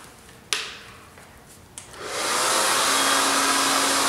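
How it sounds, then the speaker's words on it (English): Hair dryer blow-drying a section of hair, switching on after a couple of small clicks and then blowing as a loud, steady airy roar close by. "we'll continue to blow dry"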